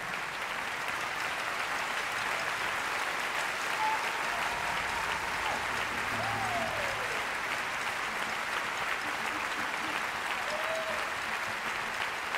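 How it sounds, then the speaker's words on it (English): Steady, continuous audience applause for an orchestra at a concert of film music, a dense wash of clapping at an even level from start to finish. "how about a nice round of applause for this great orchestra"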